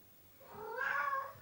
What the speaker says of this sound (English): Sorry, my cats are so loud.